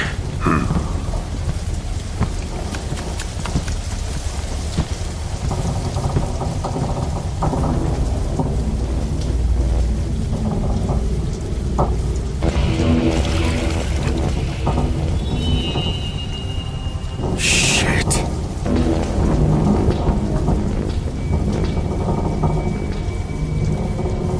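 Heavy rain pours steadily on a stormy battlefield in an animated Warhammer 40K film, with rolling thunder rumbling through and a couple of sharper cracks midway, loud and continuous throughout.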